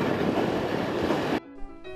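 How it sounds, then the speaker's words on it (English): Russian freight wagons roll through a dual-gauge broad and standard gauge rail yard in Poland, a loud, dense rumble close by that cuts off abruptly, leaving quieter ringing metallic tones. "Russian freight wagons."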